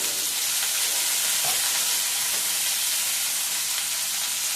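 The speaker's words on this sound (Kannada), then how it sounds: "ಈರುಳ್ಳಿ ಟೊಮೆಟೊ ಎಲ್ಲ ಫ್ರೈ ಮಾಡಲಿಕ್ಕೆ ಗ್ರೇವಿಗೆ ಈರುಳ್ಳಿ, ಕಾಯಿ ಮೆಣಸು, ಟೊಮೆಟೊ," Onion, tomato, green chili and garlic frying together in a pan for a gravy, a steady soft sizzle and hiss with faint stirring, no voices.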